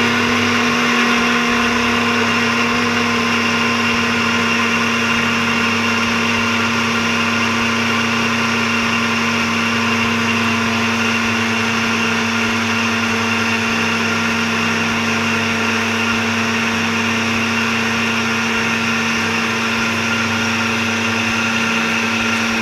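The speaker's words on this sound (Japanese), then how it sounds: "うちはブレンダーがあるのでブレンダーにします" A kitchen blender motor hums loudly and steadily the whole time, a constant mechanical whir with no pauses or speech.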